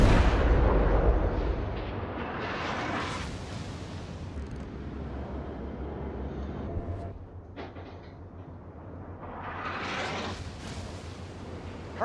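Heavy warship guns of the cruiser Myoko fire armor-piercing shells in World of Warships, with deep booming salvos at the start and again near the end and a rumbling roll between them.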